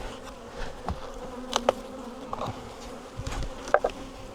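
Bees work over heavy honey supers from a hive of roughly a million bees, a steady low buzz running throughout with a few louder insects passing close to the ear.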